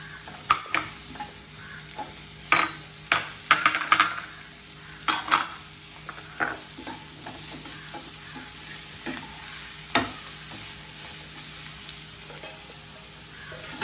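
Two sliced onions fry in a pan for a squid roast, with a low steady sizzle under repeated sharp clanks and scrapes of a spatula against the metal, close by and with no one speaking.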